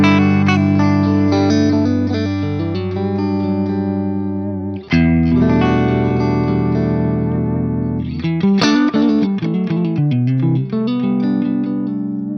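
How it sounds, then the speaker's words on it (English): An electric guitar plays sustained, overdriven chords and then choppier phrases through a Laney Lionheart Loudpedal amp pedal set with a flat EQ and moderate reverb, loud and close with no talking. "let's start with like a flat everything at 12 o'clock, and the flat EQ engaged. Let's just hear what that sounds like."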